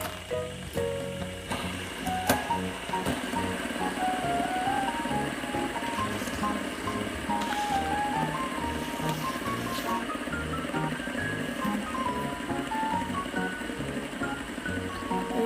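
Several fidget spinners whirring together, a sustained buzzing hum with shifting tones and faint clicks throughout, steady and close.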